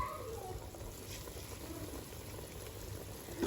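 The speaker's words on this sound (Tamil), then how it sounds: "தண்ணி வந்து இப்படி கொதிச்சுட்டு வரும்" Water bubbles and simmers at a low, steady level in a pot while cooking prawn biryani, a soft continuous boiling texture with no voices.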